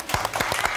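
A brief burst of audience applause at a comedy show, dense clapping that holds steady and fairly close for under a second.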